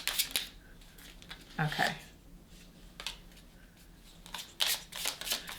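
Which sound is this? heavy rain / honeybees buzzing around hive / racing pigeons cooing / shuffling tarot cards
shuffling tarot cards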